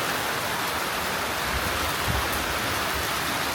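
Steady, dense hiss of rain falling continuously, a broad wash of noise with no voices.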